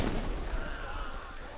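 A frag grenade goes off in a tactical team shooter game, a loud, sustained blast of rumbling noise that is strongest at the start and slowly fades, with no talk over it.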